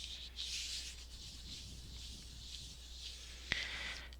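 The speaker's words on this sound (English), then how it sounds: "So just give it a quick burnish, or a nice firm burnish" A firm, steady rubbing hiss as a polymer clay cane is burnished smooth, continuous and close with one small tap near the end, and nobody speaking.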